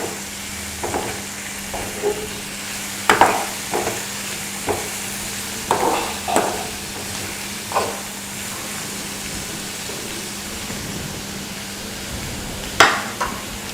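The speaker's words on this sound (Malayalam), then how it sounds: "ഒരു 5 പച്ചമുളക് ചെറുതായി അരിഞ്ഞത് അതിലേക്ക് ഇടുക" Finely chopped green chillies dropped into a hot frying pan for a brinjal (kathrikka) chutney, giving a steady close sizzle with intermittent scraping stir knocks every second or so, no voices over it.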